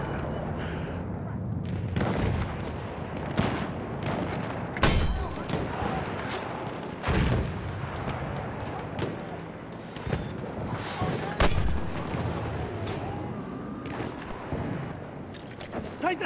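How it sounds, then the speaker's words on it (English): Mortar and artillery fire booms repeatedly across a Battlefield 1 Conquest match, with distant and nearer thuds and crackling blasts spread irregularly over a continuous battlefield din. "I really love my mortars."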